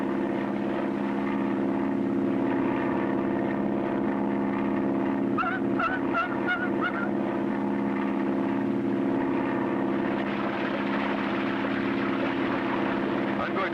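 A seaplane's droning propeller engine hums loudly and steadily during a high-speed power landing on water, with a burst of splashing or rattling noise midway before the engine roar continues.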